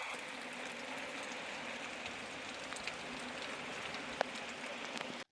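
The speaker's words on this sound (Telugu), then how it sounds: "చూడండి, వర్షం అయితే పడుతుంది ఫుల్గా." Heavy rain falling at a village loading spot among small streams, a faint, even hiss of rain with light patter and scattered drips, steady throughout before cutting off.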